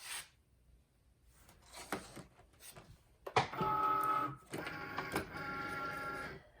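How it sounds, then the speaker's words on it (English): A Cricut cutting machine loads a sheet of genuine leather, starting with faint handling clicks, then a sharp click and a steady mechanical whirr as the material feeds in, with short pulses after it, all alone and fairly quiet. "I'm going to load this into my Cricut."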